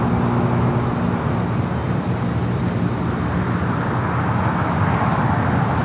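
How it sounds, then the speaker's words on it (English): A Boeing 777 freighter at LAX runway 25 left, a loud, steady broadband jet roar with low engine hum, constant and fairly near throughout, no voices. "Cargo King lined up, the 777 freighter"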